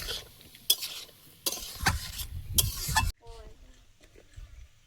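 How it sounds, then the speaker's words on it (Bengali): Fish roe frying in a pan with bitter gourd and potatoes, heard as bursts of sizzling and scraping stirs that stop abruptly, followed by quieter kitchen sounds and faint voices. "উচ্ছে আলুর সঙ্গে মাছের ডিমটাও ভালো করে একটু ভেজে নেব।"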